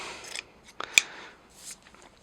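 Scissors trimming the yarn ends on a crocheted bear hood: a few quick, light snips close by, one sharper than the rest, against a quiet room with no talking.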